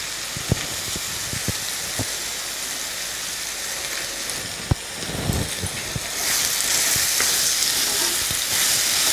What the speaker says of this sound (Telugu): ఈ వంకాయ ముక్కల్ని ఒక 5 నిమిషాలు బాగా మగ్గనిద్దాం వంకాయ ఉడుకుతోంది